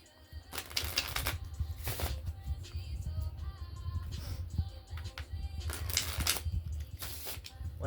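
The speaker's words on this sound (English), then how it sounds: "We'll go ahead and give them a shuffle real quick" A deck of Paris playing cards riffled and shuffled by hand, bursts of crisp card flutter recurring in quick clusters over a steady low hum, close and moderately loud.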